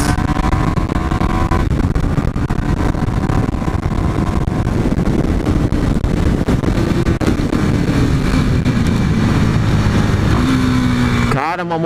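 A KTM Duke 390 motorcycle's engine revs up steadily on a track, a loud, continuous drone climbing in pitch, ending with a brief higher whine.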